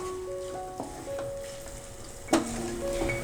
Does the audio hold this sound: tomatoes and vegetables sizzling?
yes